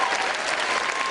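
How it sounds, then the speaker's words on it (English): Audience applause at a motivational speaking event, a dense, even wash of clapping, loud and steady for the whole short stretch. "you clap"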